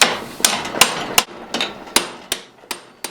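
A blacksmith hammers hot steel lugs on a bar to break the welds free while forging a hold fast, with eight sharp ringing blows in a steady rhythm, close and loud, each fading quickly between strikes.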